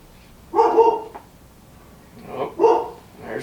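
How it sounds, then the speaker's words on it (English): Black dog barks in two short bursts of a few barks each, a couple of seconds apart, fairly close and clear against a quiet background. "Oh, there's a black dog."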